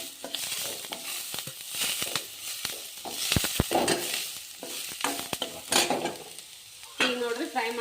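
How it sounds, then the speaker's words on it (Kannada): Carrot and cabbage frying with ginger-garlic paste make a close sizzle under busy, irregular stirring: scrapes and clinks of the spoon against the pan, loudest toward the middle, with a brief tonal clatter near the end. "ಈಗ ನೋಡ್ರಿ ಫ್ರೈ ಮಾಡ್ತಾ ಇದ್ದೀನಿ"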